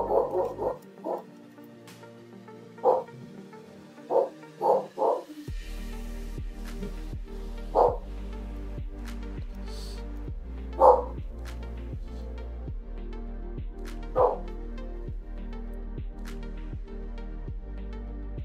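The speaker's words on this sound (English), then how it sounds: "Yo, you can hear the dogs." Dogs barking outdoors at a distance in several short sharp bursts spread across the stretch, with a steady low machine hum rising partway through and continuing underneath.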